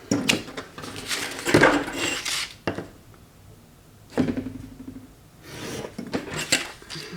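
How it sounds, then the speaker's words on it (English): A paper envelope is trimmed up close, with bursts of rasping, scraping cuts separated by short quiet gaps and no talking. "I'm going to trim this like so"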